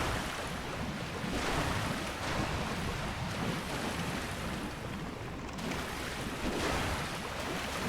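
Steady broadband roar of a waterfall in Dark Souls Remastered, a continuous rushing wash of water that holds at an even level throughout with no voices.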